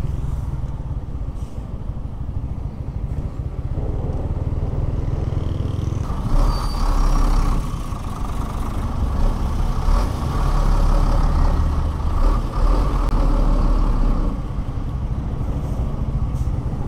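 Road traffic heard from a 2023 Yamaha Sniper 155R motorcycle: a loud, heavy rumble of idling and creeping trucks and motorbikes, with engine drone swelling midway and a brief air-brake hiss, no speech.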